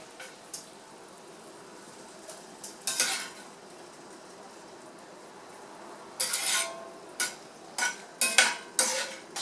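Vegetables are shifted between kitchen containers, giving scattered clinks and clatters of pots, dishes and utensils, sparse at first and then a cluster of sharper knocks near the end, with no talking.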